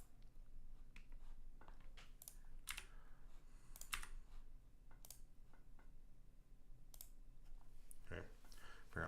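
Fast typing on a computer keyboard, faint and fairly close, with clicks in irregular bursts over a low background hum and occasional quiet speech.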